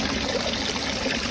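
Water rushes and trickles steadily as a small pump runs in a homemade fishing live well, a close, continuous pouring wash without talk.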